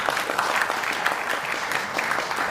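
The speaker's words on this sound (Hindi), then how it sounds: "मैं चाहूंगी कि एक बार जोरदार तालियां आप सभी के लिए" Loud, sustained audience applause at a Delhi silver jubilee event, dense continuous clapping from a large crowd filling the whole stretch without pause.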